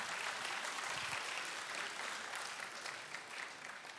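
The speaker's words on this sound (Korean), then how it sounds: "박수 한번 주십시다." Church congregation applauding during a Friday evening service, a dense, sustained wash of many hands clapping that stays even and slightly distant throughout.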